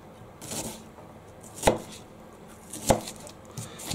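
Knife slicing onion thinly on a board for breakfast sandwiches, a few sharp isolated cuts spaced about a second apart, close and crisp with quiet gaps between.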